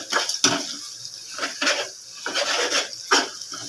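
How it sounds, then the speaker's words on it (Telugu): Eggs are mixed in a pan with ginger-garlic paste for scrambled egg, rhythmic scraping and clinking of a utensil against the pan, close and repeated about a dozen times, no talk. "కలపాలి ఎగ్ని బాగా"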